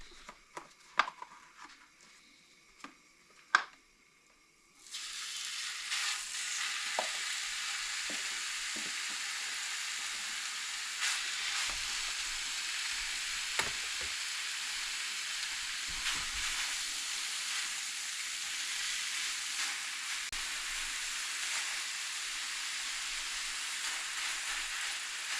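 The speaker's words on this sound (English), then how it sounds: "Let's get this steak on there." A steak laid on a hot pan at a solo campsite bursts into loud, close, steady frying sizzle after a few soft clunks, the hissing crackle holding evenly for about twenty seconds.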